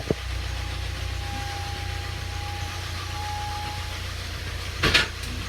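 A 2002 Pontiac Grand Am with a rod knock idles outdoors in the rain, a steady low engine rumble running throughout, with a brief louder burst of noise near the end.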